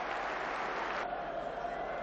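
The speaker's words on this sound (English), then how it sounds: "The crowd are on their feet, and a new star of British boxing has been born tonight." Boxing arena crowd in Sheffield on its feet applauding after a British title fight, a dense continuous roar of clapping and cheering that drops slightly midway, heard from a distance as a broad wash of noise.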